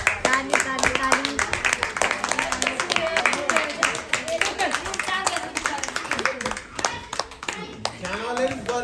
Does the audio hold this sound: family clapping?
yes